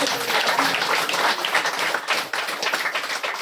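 A church audience claps for a group of small children: a steady, fairly close round of many hands with irregular peaks, and a voice faintly present beneath the clapping.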